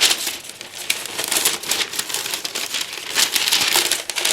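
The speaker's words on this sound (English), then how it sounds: "I'm going to take a piece of my handy dandy parchment paper." Parchment paper crinkles and crackles as it is folded, a busy run of crisp rustles close by with no one speaking.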